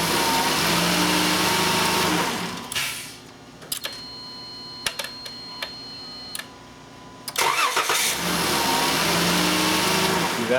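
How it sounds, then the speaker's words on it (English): A Chrysler Town and Country minivan with a no-start fault, its engine cranking on the key: loud sustained cranking and revving bursts at the start and end, with quieter clicks and ticks in between. "if I turn the key on, do the prime, it turns off, I go to crank."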